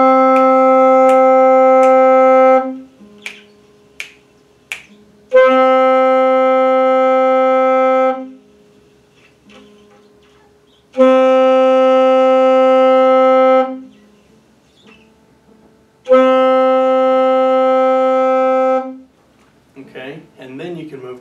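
Saxophone playing sustained whole notes, each cut off cleanly by the tongue and followed by a full rest of silence; four long steady tones alternate with quiet gaps, with a few short breathy pops in between.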